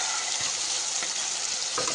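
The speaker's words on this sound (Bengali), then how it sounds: "মশলাটি ভালোভাবে কষিয়ে নিয়ে আসা হয়ে আসলে এবার দিয়ে দিচ্ছি এর ভিতরে চিংড়ি মাছ" Prawns frying in a spice masala give off a continuous, fairly close sizzle, with soft stirring scrapes throughout and no talking.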